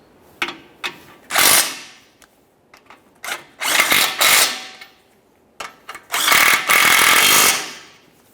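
Ratcheting wrench work on the front lower control arm bolts of a 2011-2020 Toyota Sienna, several bursts of rapid close mechanical clicking separated by short pauses and lighter taps.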